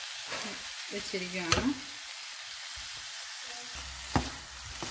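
Clam meat stirred and frying in a pan gives a soft sizzle and a few louder scrapes and clatters of the spoon, close and moderately quiet, with a brief spoken phrase over it.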